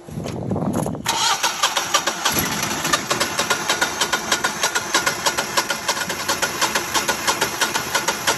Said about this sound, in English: the generator just cannot get up to the proper RPMs that it needs to